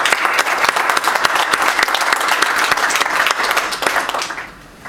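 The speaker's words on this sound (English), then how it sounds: "And Michael, please give the panelists and the volunteers a big round of applause." An audience at a healthcare social media panel event gives panelists and volunteers a dense, steady round of clapping that fades out near the end.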